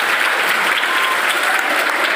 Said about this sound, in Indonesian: tepuk tangan buat kakak kita hari ini